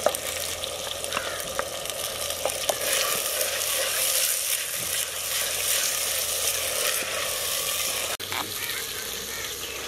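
Tomato and onion paste with cut and whole green chillies fries in a pan for mutton curry, giving a steady, close, broadband sizzle that holds for the whole stretch with occasional small pops and a brief clatter near the end.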